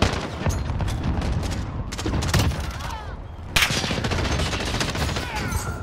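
Rapid gunfire bursts from the video game Call of Duty: Modern Warfare, dense and continuous with a sharp loud burst near the end, under faint talk.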